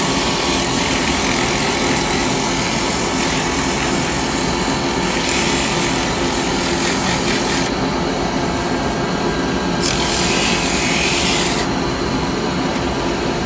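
A woodturning lathe hollows out a rotten tree branch with a carbide tool, a loud continuous scraping rasp over the motor's steady drone, with the cutting texture shifting as the tool moves.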